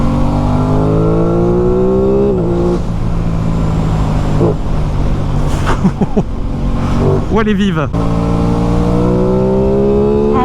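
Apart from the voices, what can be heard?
Aprilia Tuono motorcycle engine accelerating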